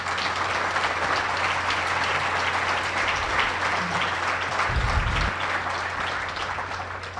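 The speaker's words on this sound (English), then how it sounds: "I think should give yourselves a big round of applause." A ceremony audience gives a sustained round of applause, dense clapping from a large crowd heard steadily throughout with no talking over it.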